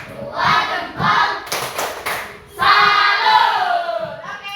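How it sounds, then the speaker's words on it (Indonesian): Loud applause from a group of people in a classroom, with steady hand clapping in bursts after a group presentation. "tepuk tangan untuk kelompok 1"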